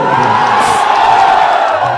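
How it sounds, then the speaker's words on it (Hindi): Crowd at a stage show in Sahibganj, Jharkhand, cheering, whooping and clapping in a loud, steady roar that fills the whole stretch. "एक और माही मनीषा के लिए हल्ला करके ताली करो"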